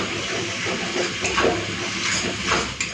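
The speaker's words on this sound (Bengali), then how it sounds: "একটুখানি জল দিয়ে দিলাম এরপরে মশলাটাকে ভালো করে কষে নেব" A spice paste seasoned with salt and sugar fries in a pan with a splash of water, hissing and sizzling loudly and continuously up close, with faint bubbling crackles.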